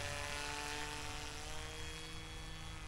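A model aircraft flies past during trimming flights, producing a continuous buzzing propeller drone with a steady tonal whine, fairly distant and even in loudness.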